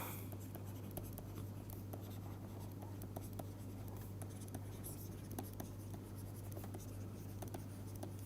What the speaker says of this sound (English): So, I am going to write down this first.